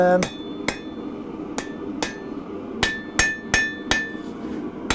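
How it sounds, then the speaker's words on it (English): A hammer forges bevels into a steel katana blade, striking about nine sharp, ringing blows in uneven pairs and singles, close and loud against a steady low background hum. "what I'm doing is forging in the bevels, and then I'm correcting the width."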